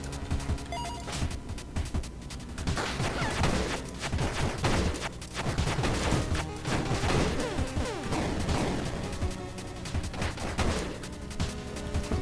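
The Finale weapon effect in the game Star of Providence gives dense, rapid bursts of crackling explosive blasts and gunfire-like impacts, loud and sustained for about twelve seconds with repeated heavy hits and no talk.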